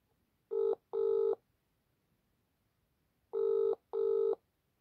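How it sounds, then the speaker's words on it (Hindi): A telephone rings with an incoming call, sounding in two double-burst rings separated by a pause, clear and close against a quiet room. "सॉरी, किसी का फोन आ गया था, बच्चों का फोन आ गया था"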